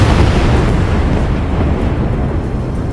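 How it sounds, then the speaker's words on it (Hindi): A powerful blast from a 100 kg bomb being destroyed, heard as a loud, dense rumbling roar that stays heavy for the full few seconds and eases only slightly toward the end. "जैसे ही बम को नष्ट किया गया उसमें इतना तेज विस्फोट हुआ जिसकी गूंज से पूरा इलाका कांप उठा"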